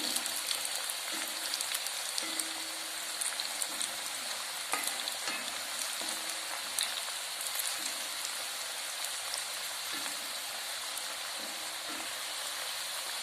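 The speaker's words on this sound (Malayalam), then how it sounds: "എണ്ണയിലിട്ട് തിളച്ചുകൊണ്ടിരിക്കുകയാണ്." Steady crackling sizzle of raw jackfruit chips deep frying in hot oil, continuous and even throughout with a few faint clicks, no voices.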